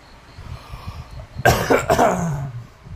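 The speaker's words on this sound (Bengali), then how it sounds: "আমি কাশি দিলাম" A single harsh cough, loud and close, comes from a man indoors. It is followed by a short rasping tail over quiet background murmur.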